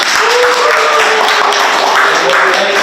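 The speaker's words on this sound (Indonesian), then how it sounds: "Tepuk tangan dulu teman-teman" Applause from an audience at an Indonesian talk event, steady dense clapping with a faint tonal hum running underneath, loud and continuous throughout.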